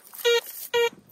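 A DeepTech Vista Gold Hound metal detector sounds two short, identical buzzy tones a moment apart, loud and close over faint background. The target signal is harsh and scratchy and breaks up.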